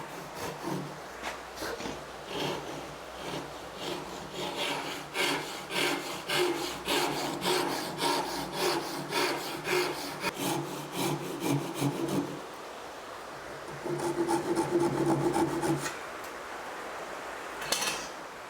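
A Japanese pull saw cuts wood at a Western workbench, its teeth rasping in steady back-and-forth strokes, close and fairly loud, with a brief pause and a change in tone toward the end.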